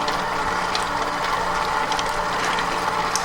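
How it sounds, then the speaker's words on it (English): A KitchenAid 8-quart stand mixer beats eggs and butter with a steady, even mechanical whir and faint rhythmic clicking, running continuously and fairly close with no talking. "I gotta say, this mixer's pretty amazing. Like you said, it's really quiet."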